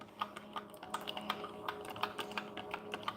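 A teaspoon stirs a drink in a cup, giving quiet, irregular light clinks and taps at close range with no voices.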